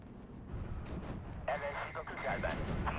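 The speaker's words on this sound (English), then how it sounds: "There's mortars coming from over here." Mortar fire in the World War II strategy game Steel Division 2: a steady rumble of distant battlefield explosions, with a brighter burst of shelling midway that continues loudly to the end.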